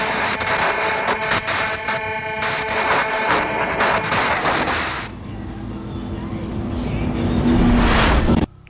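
A car speeds across barren desert flats at Devil's Gate. Its engine drones loudly and steadily under a dense cinematic soundtrack, then swells into a closer, rising roar near the end.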